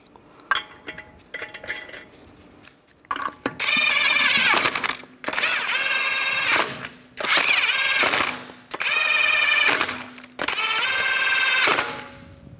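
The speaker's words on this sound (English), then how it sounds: "Put the lug nuts on." Lug nuts going onto a Ford Explorer wheel, run on with a power tool in four or five loud bursts of whirring and clattering, separated by short pauses.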